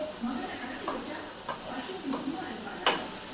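Brinjal and drumstick pieces sautéing in a pan for a dried-fish curry, with soft sizzling and a few scraping stirs of a spoon, steady and close, with faint voice in the background.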